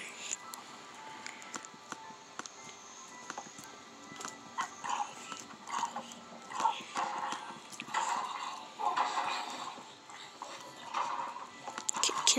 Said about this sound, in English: Can somebody kill this horse, please?